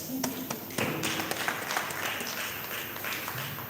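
An audience at a World Rivers Day commemoration held by Ghana's Water Resources Commission claps steadily, a moderately loud round of applause with a few sharper nearby claps and taps and faint voices underneath.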